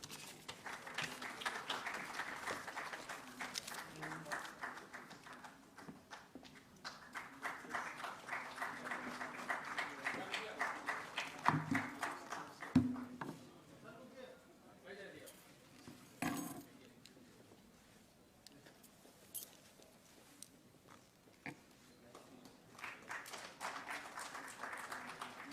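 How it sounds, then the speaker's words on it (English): Audience applause at a national award ceremony, sustained clapping from a crowd heard at some distance in waves, fading to quieter stretches with scattered claps and some background voices. "Please give a big round of applause."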